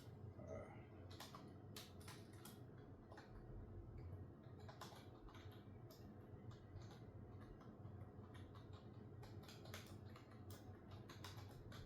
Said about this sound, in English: This keyboard's a little different than what I am used to